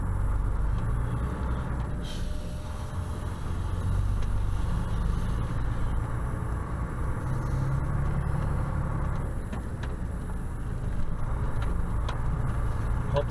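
A diesel truck pulls away after refuelling, its engine giving a steady, close, low rumble that holds without a break, with faint mechanical rattles over the top.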